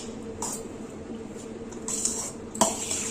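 A spoon scrapes and clinks against a pot or bowl as salt is mixed into cooked rice for vangi bath, with a few sharp metallic taps over a quiet, steady background.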